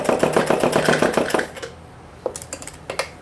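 Sewing machine stitches fabric while taking in an oversized palazzo, a close, fast run of rapid needle clatter that stops after about a second and a half, followed by a few isolated clicks.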